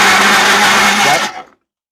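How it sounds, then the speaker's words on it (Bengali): A blender running at full speed gives a loud, steady motor whine and churn up close, then cuts off and fades out just before the end. "ব্লেন্ডার হইতেছে"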